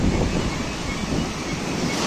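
Storm surf on the Black Sea shore in Odesa, a continuous roar of heavy waves crashing close by, with strong wind buffeting the microphone throughout.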